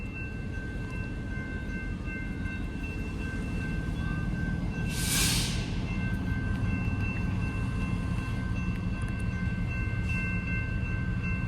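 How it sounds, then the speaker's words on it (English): Train rolling past at a railroad crossing, a steady low rumble heard from a nearby vehicle, with a steady crossing-bell tone ringing throughout and a brief hiss midway. "There's a train right there."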